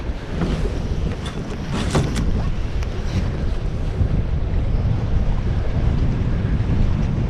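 Strong wind buffets the microphone on a rental fishing boat on Leech Lake, a loud constant roar with waves slapping the hull. A few sharper gusts and knocks stand out, and no one speaks.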